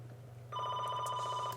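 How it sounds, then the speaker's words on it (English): A telephone bell starts ringing about a third of the way in and keeps trilling steadily and fairly loudly, alone over a low background hum with no talking. "There's a phone."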